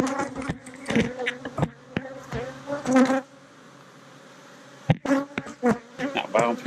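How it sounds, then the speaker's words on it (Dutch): Bees buzz close by around a hive in uneven bursts, several passing near with droning hums that swell and fade, a brief quieter lull in the middle. "Nou, waarom vliegen de bijen zo hard op?"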